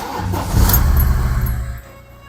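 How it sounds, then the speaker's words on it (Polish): An Audi A4 B7 engine with a unit-injector fault cranks and catches, giving a loud mechanical rumble that swells briefly and then drops away. "Uruchamiam silnik."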